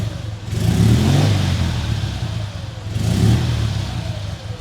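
Motorcycle engine running warm at operating temperature, a steady mid-pitched hum that swells twice in gentle revs, close and fairly loud with no voices.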